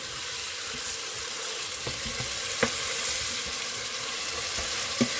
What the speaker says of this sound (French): J'essaie déjà de faire cuire la tomate en fruits et l'oignon